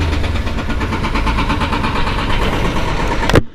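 A Honda CB200X motorcycle engine turned on with a key and push-button starter, running steadily and close for a few seconds before cutting off abruptly.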